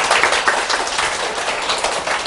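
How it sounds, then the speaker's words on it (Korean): Students in a Korean civil-service exam English class applaud together, a dense burst of steady hand clapping lasting a couple of seconds with no talk. "동감하시면 박수 부탁해요"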